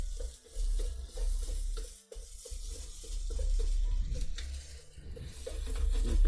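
Fried rice stir-fried in a pan, a constant sizzle broken by rhythmic scraping and clinking of the utensil against the metal, fairly close and busy, with no talking.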